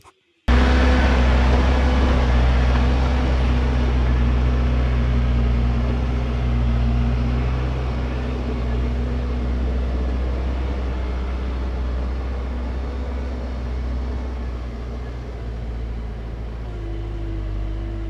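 A backhoe hauls dirt to a house site during retaining wall work, its diesel engine a steady, loud, continuous drone with a low hum holding throughout and no talk over it.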